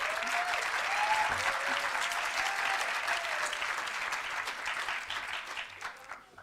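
Applause from the audience at the Pan African Universities Debating Championship in Kampala, a dense, even crowd clapping at moderate distance that holds steady and then thins and fades toward the end.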